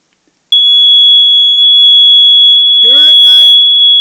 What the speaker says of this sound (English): And there's one of my smoke detectors in my collection.